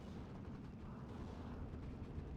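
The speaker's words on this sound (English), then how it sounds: "mortar fire coming down onto the MG42" Continuous heavy battle rumble of mortar fire and explosions from the WWII strategy game Steel Division, mortars shelling a German MG42 machine-gun position, dense and loud throughout with no clear gaps.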